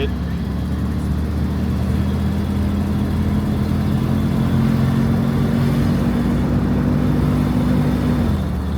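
A used car engine runs steadily at a low, even idle, close and constant throughout, with a faint steady tone near the end.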